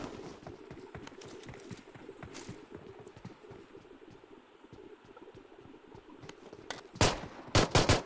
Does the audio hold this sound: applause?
no